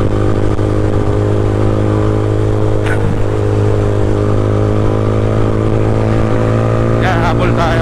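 A Yamaha Mio motorcycle engine drones steadily and loudly at high revs during an endurance ride, a constant close buzz with brief voice bursts over it.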